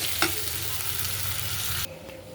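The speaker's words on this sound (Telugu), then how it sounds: "ఇలా టమోటాలు వేసేసుకొని బాగా ఫ్రై చేసుకోవాలి" Tomatoes frying with salt for a chicken curry give off a steady close hiss and crackle in the pan, with one brief stir near the start, before the sizzle drops suddenly to a quieter level.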